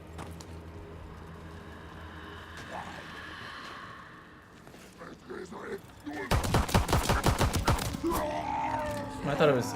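Rapid gunfire from a zombies video game, mostly in the second half as a loud burst of fast repeated shots, with game noises and talking mixed in before it.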